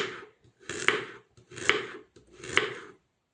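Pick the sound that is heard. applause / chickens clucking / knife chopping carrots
knife chopping carrots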